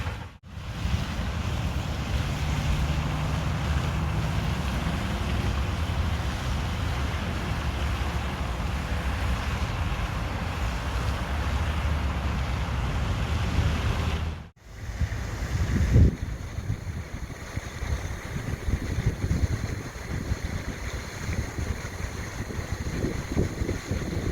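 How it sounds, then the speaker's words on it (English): A lakeside fountain's steady rushing water runs continuously at close range, dropping out abruptly for a moment before the splashing flow resumes, slightly rougher. "the fountain turns off at 7 and won't come back on until 7 in the morning"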